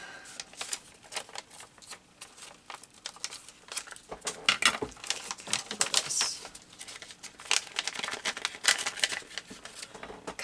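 Scissors cutting through junk mail envelope paper, with irregular crisp snips and paper rustling close by, uneven bursts over the full stretch and no speech.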